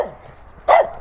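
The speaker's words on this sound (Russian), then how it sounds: "Собачка такая смешная." A dog barks once near the end, a single close, loud yelp-like bark after a quiet street stretch beside an old house.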